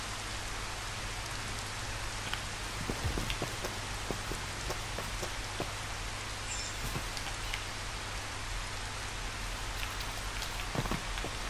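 Steady rain pours down in the video game Final Fantasy XV Platinum Demo, a continuous dense hiss of drops with occasional louder splatters over a low background hum.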